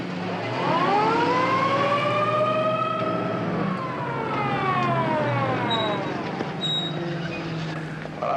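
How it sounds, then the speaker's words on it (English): Wailing ambulance siren at a race track in a 1950s film, rising and falling in long sweeping tones, loud and close, with a faint voice briefly underneath. "Ambulance to the U-turn. Ambulance to the U-turn."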